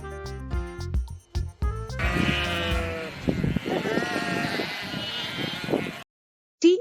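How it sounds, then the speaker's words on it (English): Sheep bleating several times in a row, the loud wavering cries coming close together and then fading into a sustained, harmonically rich bleat before a brief silence and a short final burst. "S is for sheep."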